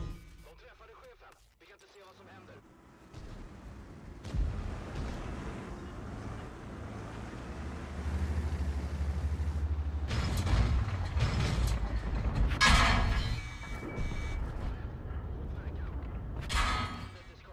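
Tank rumbling and firing in a video game, with a low engine drone, several bright bursts and mechanical clatter building mid-clip under light talk.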